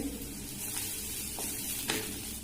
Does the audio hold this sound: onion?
yes